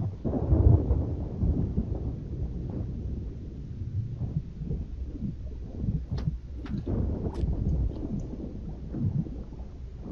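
Thunderstorm at sea in the Sea of Thieves video game, low rolling thunder rumbles and churning storm noise at moderate volume, with a few faint sharp ticks in the latter half.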